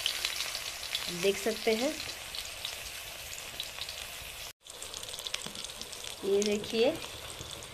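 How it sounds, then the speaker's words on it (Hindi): Brinjal slices for begun bhaja fry in very hot oil on a stove, a steady broadband sizzle running throughout while someone talks over it. "तेल में हम डाल दिए हैं, भाजा मेरा बन रहा है।"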